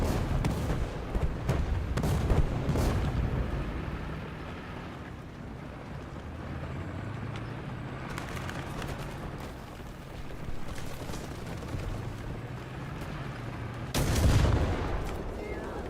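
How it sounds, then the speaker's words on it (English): Artillery strike explosions in Junk Thunder: heavy booms and crackling blasts hit at the start and again near the end, with rumbling debris and low engine noise filling the gaps. "Or we can drop an artillery and destroy it either way."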